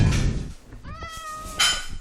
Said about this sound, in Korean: 고양이, 고양이. 여기 나가고 싶어 하는 애들도 있네.